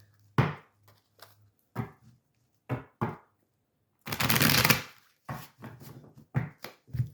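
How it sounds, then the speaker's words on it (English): A stack of tarot cards being shuffled with quick riffling bursts and scattered taps and slaps, one longer flurry in the middle, close and fairly loud. "I'm going to shuffle one more time"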